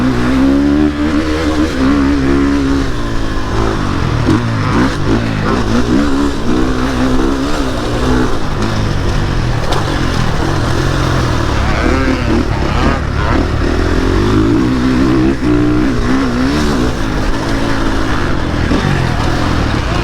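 A 2020.5 KTM 450 SX-F Factory Edition motocross bike rides continuously, its loud engine rising and falling through repeated revs and gear changes, close throughout.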